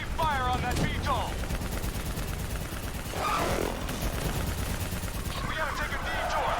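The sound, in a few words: gunfire in the video game Call of Duty Black Ops III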